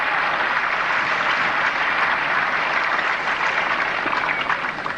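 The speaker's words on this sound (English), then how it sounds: "Some of the crowd applauding a bit early." Crowd applauding at the 1987 Brisbane tennis semifinal between Hana Mandlikova and Helena Sukova, a loud, continuous wash of clapping from many spectators, sustained evenly throughout.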